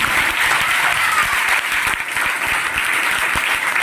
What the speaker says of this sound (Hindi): ताली बजाओ उसमें के लिए